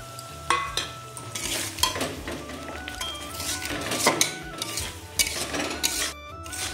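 Thick spice paste for a vegetarian potol (pointed gourd) dish stirred and sautéed in a pan, with repeated scraping and clinking of a spoon against metal over a low sizzle, close and fairly loud, no talking.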